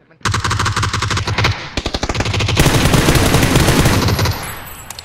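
Automatic gunfire in PUBG rattles in long, rapid bursts, loud and close, with a brief gap before another sustained volley and a few scattered shots at the end.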